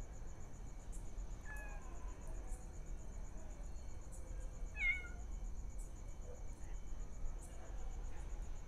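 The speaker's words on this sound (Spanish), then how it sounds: "¿Los gatos nos están cuidando?" Cats give a few scattered meows in a cemetery at night, faint to moderate, over a steady chirping of crickets and insects.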